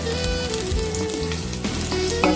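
Ginger and garlic sizzling in a pan as they are stirred, a dense close frying hiss heard under steady tonal background music.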